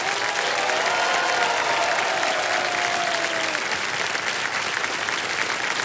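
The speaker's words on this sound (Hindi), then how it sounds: "इतनी जोर से ताली बजी है" A studio audience on the KBC game show claps loudly and steadily the whole time. Faint voices show through the crowd noise.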